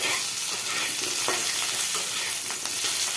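Potato pieces fry in a pan with a steady, close sizzle, while a utensil stirring and scraping through them adds scattered clinks and scrapes.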